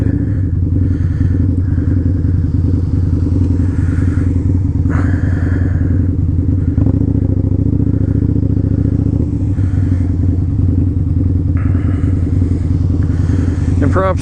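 A Harley-Davidson motorcycle rides through a blizzard, its engine a loud, steady low drone that runs the whole time, with wind rushing and brief clattering on top.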